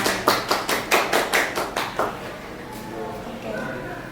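A handful of people at a textile-art talk give a short round of applause, about nine distinct, evenly spaced claps that fade out as faint murmuring voices take over.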